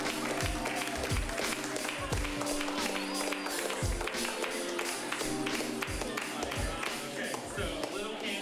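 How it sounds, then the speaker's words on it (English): A crowd applauds a newly crowned champion at a Friday Night Fights event, with a dense wash of clapping and cheering and a run of periodic dull thumps beneath it. "give a big warm round of applause for LIL Candace!"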